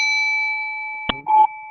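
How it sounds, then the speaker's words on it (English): A single bell rings with a clear, sustained, slowly fading tone, followed near the end by a sharp knock and a brief ringing shimmer. "I'm going to ring a bell"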